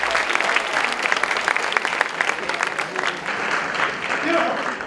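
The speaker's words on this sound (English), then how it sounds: "Round of applause for this beautiful reunion." Sustained audience applause at a TEDx talk event in Bergen, with dense clapping filling the hall throughout and a voice briefly heard over it.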